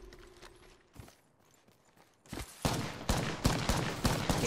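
Gunfire in the Apex Legends video game, a loud sustained fusillade of rapid shots in the second half, preceded by sparser distant shots and ambient battle noise.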